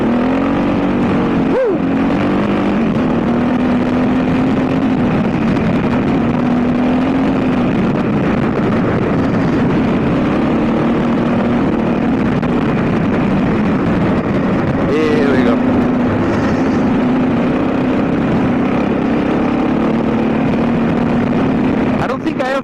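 An adventure motorcycle is ridden fast at an adventure bike gathering in Portugal, its engine holding a loud steady drone for the whole stretch with a few brief rises in pitch, wind roar underneath.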